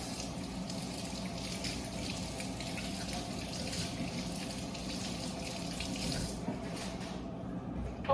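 Lemons are rinsed under a running kitchen tap, with a steady close stream of water splashing over the fruit and into the sink without a break.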